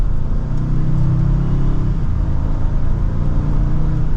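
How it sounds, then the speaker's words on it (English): A 2024 Ford Expedition Max Limited accelerates mildly in manual mode, heard from inside the cabin as a steady, loud, low engine rumble and road drone with no talking. "let's see how it does with a mild acceleration"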